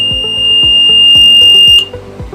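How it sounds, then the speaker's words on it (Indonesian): A smoke detector buzzer sounds loudly and up close, a sustained high-pitched piercing tone that cuts off near the end, over a repeating rhythmic thumping pulse underneath. "Dia akan menghidupkan buzzer tersebut."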